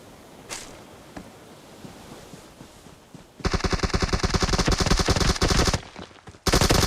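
Rapid video-game gunfire, loud and close, rattling in a sustained automatic burst for about two seconds, then a short pause and another burst at the end, with a few scattered shots and faint distant firing before it.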